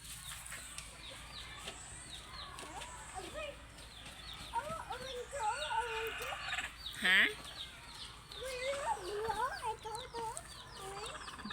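Young chicks at a water drinker give faint, scattered peeping and clucking calls, one sharper chirp standing out, while people talk quietly nearby.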